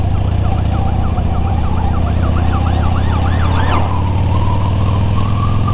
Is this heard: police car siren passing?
yes